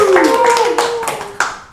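A few sharp hand claps ring out in a talk show studio, loud and close, spaced unevenly while a person speaks over them.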